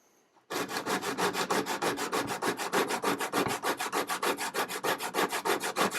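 A steel hand plane iron is raked back and forth across a sharpening stone in a fast, even rhythm of rasping strokes, close and alone, starting abruptly after a brief quiet moment.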